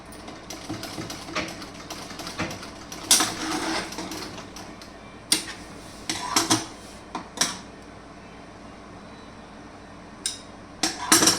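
A sewing machine stitches fabric at a shoulder seam in short, uneven bursts of mechanical whirring and clicking, close by, with quiet pauses between runs.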